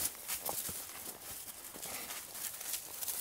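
A donkey's hooves clop on the ground as it walks outdoors near cattle, a faint irregular series of soft knocks and steps over a light background hiss.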